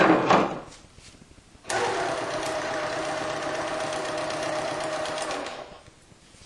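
A Janome 1600P sewing machine on a Grace quilting frame basts a quilt, running in one steady, close, even whirr for several seconds after a brief start, then stopping.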